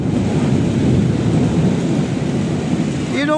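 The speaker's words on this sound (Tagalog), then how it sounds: "parang pumasok dyan yung thunder, guys" Thunder from a nearby lightning strike near a building, a loud heavy rumble that rolls on steadily for a few seconds amid windy, rain-like noise.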